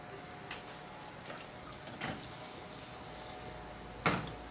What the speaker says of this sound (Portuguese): E aí eu vou misturando ele até eu ver que ele tá mais ou menos fritinho, que saiu toda a baba dele